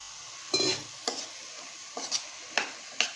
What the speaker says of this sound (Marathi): मिक्स करून घेऊया सर्व मसाला आहे चण्याची डाळ आणि दुधीला आपण मिक्स करून घ्यायचा